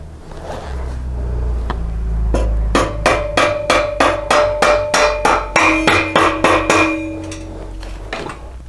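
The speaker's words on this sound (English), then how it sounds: "I'm going to use a plastic hammer to drive the rod through" Plastic hammer driving a rod through the rear engine mount of a 1983 BMW R100RS motorcycle frame, about fifteen loud, evenly spaced blows ringing against metal, with no talk.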